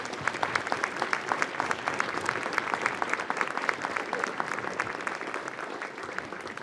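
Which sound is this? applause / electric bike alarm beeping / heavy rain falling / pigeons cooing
applause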